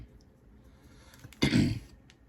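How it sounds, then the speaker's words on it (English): One throat clearing, a short rough burst close by, after a stretch of quiet room noise. "coughing here and my clearing of my throat"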